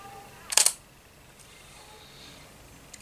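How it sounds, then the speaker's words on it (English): A Canon M50 mirrorless camera's shutter fires in a short, crisp mechanical burst near the start, with another quick click right at the end, both close over quiet room tone. "I don't know if you heard the shutter just then"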